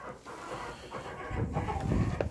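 Laying hens nearly two years old cluck in a farm coop, a soft, close, continuous murmur of fowl that grows busier and louder toward the end.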